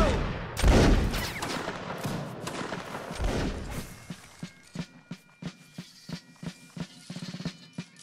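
Musket volley fire in a Napoleonic Wars line battle game opens with a loud crashing volley, then scattered sharp individual shots crack in an irregular rhythm at mid distance.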